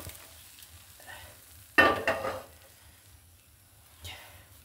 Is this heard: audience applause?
no